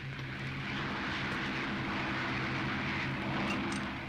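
A propeller airplane engine roars steadily at throttle during takeoff, a loud, continuous drone with a low throbbing hum.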